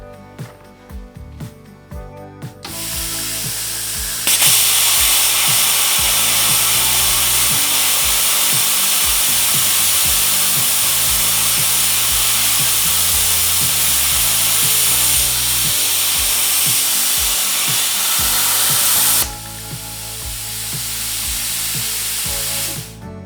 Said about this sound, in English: We're going to see if it continues to eat it or if it will just heat it.